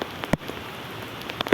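Rain falling outdoors, a steady soft patter on surfaces with a few sharper drop hits standing out, close and fairly quiet, no voices.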